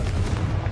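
A Confringo blasting spell explosion in the Hogwarts Legacy video game gives a dense, sustained low boom that rumbles steadily through the whole short moment, loud and close, with no talking.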